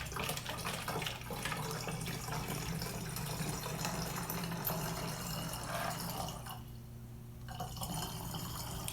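Liquid trickles slowly and steadily into a container, a soft continuous watery flow that briefly drops away near the end before resuming.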